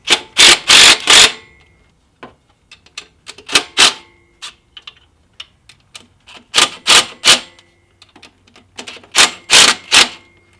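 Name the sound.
loosening alternator tension bolt on Subaru WRX engine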